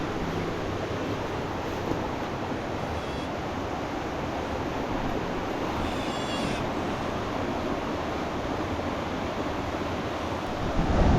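Steady broadband rush of a jungle river fills the whole stretch, continuous and fairly loud, with no voices.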